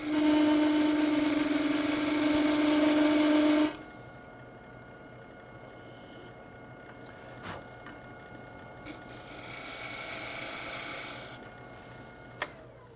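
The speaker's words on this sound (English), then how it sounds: "So go back to a parting tool, create a tenon on here." A parting tool on a wood lathe cuts a tenon into an end grain lidded box, giving a loud, steady high-pitched cutting whine for a few seconds, then a quieter spinning hum with a second, fainter cut later.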